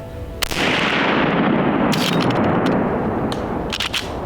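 A 45-70 rifle fired at a whitetail deer on public land in Iowa: a single sharp, loud shot followed by a long rolling echo and faint outdoor ambience.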